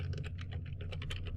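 Rapid typing on a computer keyboard, a steady run of close, crisp key clicks with no pauses and no talking.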